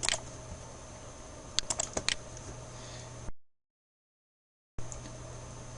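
Typing on a computer keyboard while entering a vehicle name and weights, a run of close, quick key clicks with a few louder taps, then a sudden gap of silence before faint clicking resumes.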